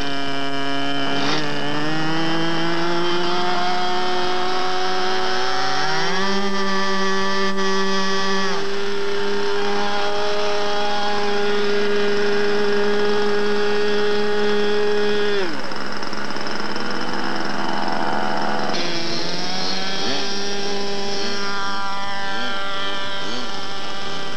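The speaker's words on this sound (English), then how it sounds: "This is a scratch-built airplane also." A scratch-built model airplane engine buzzes continuously for the whole stretch, its high whining drone sliding up and down in pitch as the throttle changes, with a few sharp sweeps between steadier passages.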